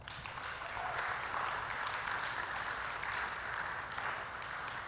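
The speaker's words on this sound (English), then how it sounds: "Let's give our candidates one more round of applause" Steady applause from a beauty pageant audience, a sustained wash of clapping that sounds somewhat distant and even throughout.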